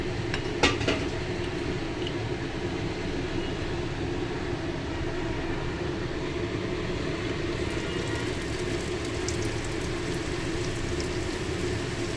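Pea-filled kachori frying in hot oil in a steady, even sizzle that holds for the whole stretch, with one brief metallic clink near the start.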